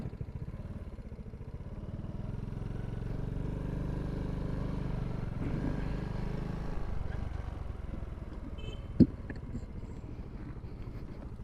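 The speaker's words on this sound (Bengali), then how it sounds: "সামনে দেখতে পাচ্ছেন যে একটা গোল সার্কেলের ভিতর দিয়ে বাইক চালাইতেছে" A motorcycle circles inside a round test track during a JPJ riding licence test in Malaysia, a steady low engine drone rising slightly mid-ride, with wind noise and a sharp click near the end.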